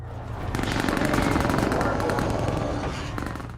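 Nemesis firing a rocket launcher in a Resident Evil Requiem game trailer, heard as a loud, dense burst of rapid gunfire-like blasts and crackling explosions that runs almost the whole time, with a voice partly mixed in.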